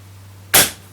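A single sharp gunshot from a Contender pistol with a suppressor held over the barrel, a loud close crack that decays quickly, following a moment of quiet hum.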